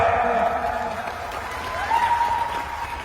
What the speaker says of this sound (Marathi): करा की टाळ्या